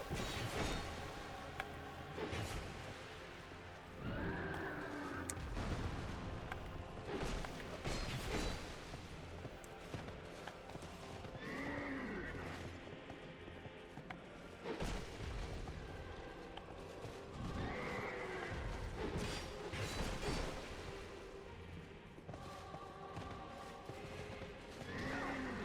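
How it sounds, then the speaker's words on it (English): A chariot horse in the Dark Souls 2 video game whinnies loudly again and again over thudding galloping hooves and rumbling, clattering game effects. "Oh, it's the chariot horsey."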